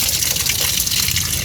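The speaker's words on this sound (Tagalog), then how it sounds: "umaagos yung tubig sa wire. And then, syempre, papasok dun sa loob ng cabin" Rainwater runs along a wire into a car cabin, a loud, steady rushing and gushing of water heard up close with no pause and no talking.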